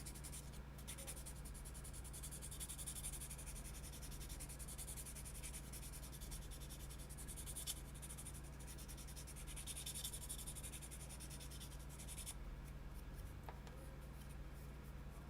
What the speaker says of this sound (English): we got to get a little bit of a higher grit sandpaper here, right? We're going to help smooth things out.